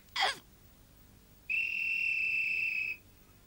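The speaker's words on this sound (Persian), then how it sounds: "با سوت داور پایان نیمه اول اعلام میشه" A referee's whistle ending the first half of a football match: one steady, shrill blast lasting about a second and a half, preceded by a brief sharp chirp, over a quiet background with no talk.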